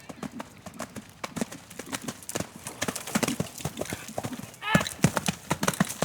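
A horse canters in a steady three-beat rhythm of clip-clopping hoofbeats, close and moderately loud, with a rider speaking quietly over it.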